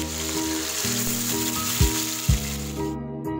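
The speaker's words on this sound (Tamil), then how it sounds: "இது லோ ஃப்ளேமில் வச்சு ஃப்ரை பண்ணிக்கோங்க, இல்லைனா மசாலா தீஞ்சிரும்." Masala-coated carp fish fry in extra oil in a pan over a low flame, a steady close sizzle under a tonal hum, with two soft thumps before it cuts off abruptly.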